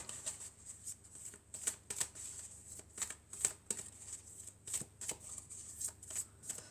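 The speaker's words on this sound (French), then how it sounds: "on va prendre quelques cartes de l'oracle de la Triade" Triade oracle cards being shuffled by hand, a close run of crisp riffling flicks and soft slides repeating steadily, with a faint low hum underneath and no talking.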